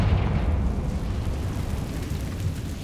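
Confringo fire spell blast in the Hogwarts Legacy video game: a loud, sustained low rumbling burst that starts strongest and slowly tapers over a few seconds, with no voices.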